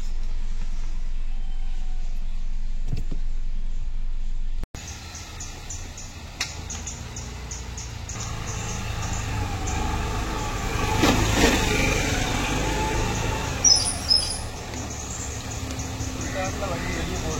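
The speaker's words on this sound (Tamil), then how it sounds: "வண்டி வெளியே போகுது." A car easing out of a tight parking space: a low, steady engine hum with light revving and tire noise, under someone talking throughout.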